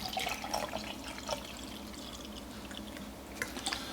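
Water being poured into a Croatian MRE ration pouch, with close trickling and splashing at the start, then a quieter dribble and a few drips near the end.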